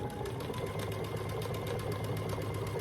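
A sewing machine runs steadily, stitching binding along the side of a Grinch-themed quilt, its fast even needle rhythm continuous and close throughout.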